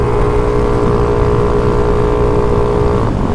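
A motor scooter fitted with a Reveno clutch, ridden at speed. A loud, steady engine drone with a constant hum runs throughout, heavy wind rush underneath, with no change in pitch.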